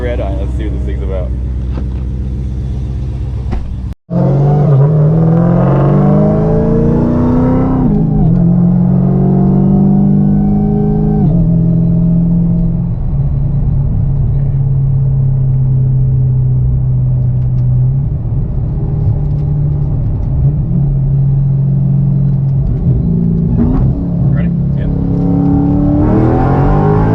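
A modified supercharged Dodge SRT Hellcat Redeye roars loud and close from inside the cabin, its engine droning and rising in pitch as it accelerates, with a brief cut in sound early on, then a sustained heavy rumble.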